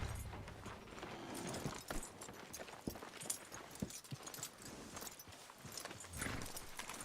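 In the Red Dead Redemption 2 video game, a horse's hooves clip-clop steadily on the ground, a continuous even rhythm of hoofbeats heard over dense ambient noise.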